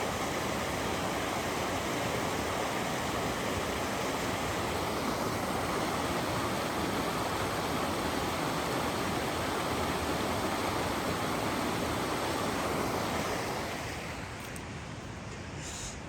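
Camp Creek's flowing water rushes as a steady, dense broadband wash, close and continuous for the whole stretch, easing slightly near the end.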